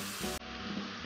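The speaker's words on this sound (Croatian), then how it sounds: "I kratko ga pržimo sa svih strana" Chopped beef sizzles in a hot frying pan in a short, steady hiss of frying, close up and with no voices.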